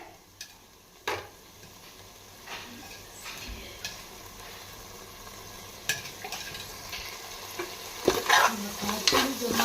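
Mutton curry ingredients fry in oil in a Nellore-style dish with tamarind leaves, brinjal and raw mango, giving a steady close sizzle broken by scattered spoon-and-pan clinks and stirring scrapes that grow louder toward the end.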